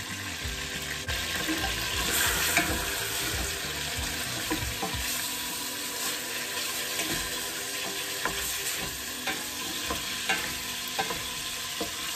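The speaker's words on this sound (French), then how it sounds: "Je saisis ma viande. Il faut toujours saisir la viande" Meat for Moroccan couscous sears in a pan with onions and salt, a steady close sizzle broken by occasional stirring clinks and scrapes throughout, with no talking.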